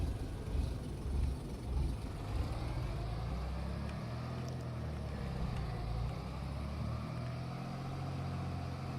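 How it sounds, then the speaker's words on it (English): A medium tractor in the Farming Simulator 25 video game drives along, its engine a steady, continuous low rumble with a droning tone that holds at an even loudness for the whole stretch, with no talking over it. "this is my favourite tractor to use."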